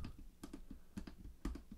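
Buttons on a Maschine controller are pressed in a quick, uneven run of soft plastic clicks, close and quiet, with no talking.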